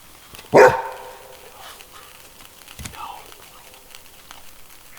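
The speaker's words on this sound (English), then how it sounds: "I definitely think since Ruger barked and he got close enough, he realized it wasn't an owl" One sharp, loud bark from a dog outdoors at night on a spring camping trip, close by, followed by quiet surroundings with faint rustling and soft whispered voices.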